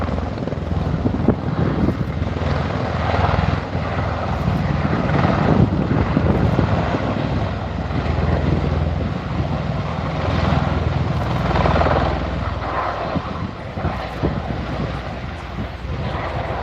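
A V-22 Osprey tiltrotor accelerates past 100 knots as its engine pods swing from vertical to horizontal for wing-borne flight, giving a loud, continuous rotor and engine roar that swells and eases slightly.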